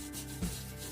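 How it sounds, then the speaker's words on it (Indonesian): Sandpaper rubbing briskly against a hard cement block, a short close scraping stroke with a slightly louder scrape midway. "untuk merapikannya saya gunakan amplas seperti ini"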